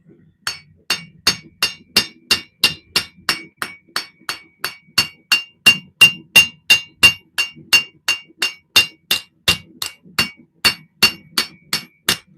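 Steady, rhythmic hammer blows ring out on hot metal in a home forging shop, around thirty sharp metallic strikes at an even pace, close and loud, with no talking.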